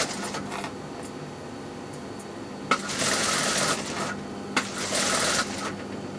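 A sewing machine stitches a seam through upper and inner lining fabric, two loud rapid whirring runs of about a second each, separated by quieter clicks and handling of the material.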